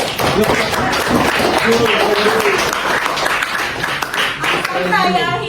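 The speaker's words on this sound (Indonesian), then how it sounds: "boleh tepuk tangan" Students clap together in a classroom during an Islamic religious education lesson, close, rhythmic hand claps with voices calling out over them before the clapping fades near the end.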